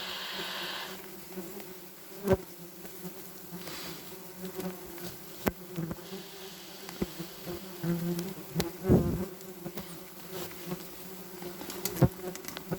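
Wasps buzz steadily around several large nests in an attic, a close, continuous insect drone with individual wasps flying past and occasional knocks and bumps.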